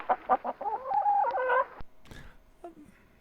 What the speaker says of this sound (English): It is a chicken.